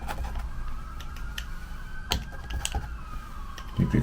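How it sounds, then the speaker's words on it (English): Emergency vehicle sirens wail faintly in the distance as a thin rising-and-falling tone, partly masked by nearby clicks and bumps. "I hear the sirens."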